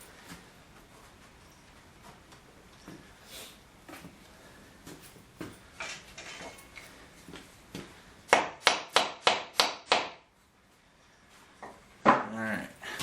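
A wooden fox tail peg with a 1/16 inch kerf cut through its center is tapped into a hole for a wedged tenon, giving a quick run of six sharp knocks near the end, then a couple more taps after a short pause.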